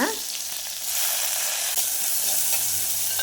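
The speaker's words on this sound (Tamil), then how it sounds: "ஒரு பட்டை ரெண்டு லவங்கம் போடுறேங்க இப்போது இதெல்லாம் வந்து பொரிஞ்சதுக்கப்புறம்" Cinnamon bark and cloves frying in hot oil, a dense, loud crackling sizzle that holds steady from start to finish with a few faint clicks mixed in.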